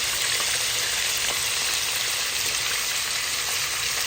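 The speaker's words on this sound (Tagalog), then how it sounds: "ang inuna natin ay ang ating manok. Ayan. I-prito po natin siya." Chicken pieces fry in a hot pan, giving a steady, close sizzle of spitting oil that runs without a break.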